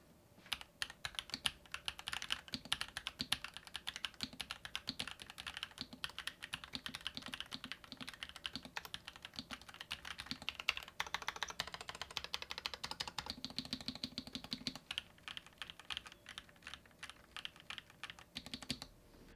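Typing on a Halo75 keyboard fitted with swapped keycaps and linear switches: a quick, continuous run of soft, close keystrokes at a steady pace, quiet throughout with no voices.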